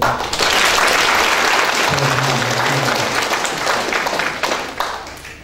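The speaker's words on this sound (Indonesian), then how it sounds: "Tepuk tangan dulu untuk" Audience at a Universitas Tadulako event in Palu applauds loudly and steadily throughout, a dense crowd clapping that tapers slightly toward the end.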